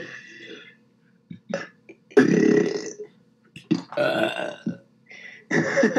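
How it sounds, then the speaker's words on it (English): A person burps several times in a row, loud close croaking belches of varying length separated by short pauses, some stretched and gravelly. "That was a really bad burp."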